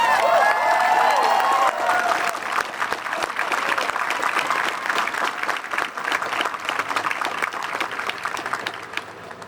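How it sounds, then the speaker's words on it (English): A protest crowd for abortion rights in Groningen applauds steadily and loudly throughout, dense clapping with some cheers and whistles, and a voice heard briefly at the start. "I think they deserve some applause right now."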